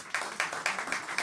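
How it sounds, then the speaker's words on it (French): Audience clapping at a French stage show, a short burst of fairly faint, even handclaps in steady rhythm. "Alors, on applaudit très fort Lorraine."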